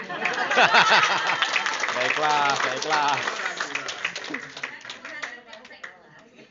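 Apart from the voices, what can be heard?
audience clapping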